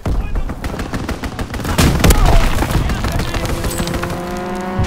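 A strafing run in Call of Duty WW2 during the Attack of the Undead event: dense, rapid bursts of gunfire with heavy booms, loud and continuous, building toward the middle before easing into sustained firing.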